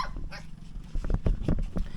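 A dog barks repeatedly at close range in a rough, irregular series of loud yaps and whimpering yips, with no speech over it.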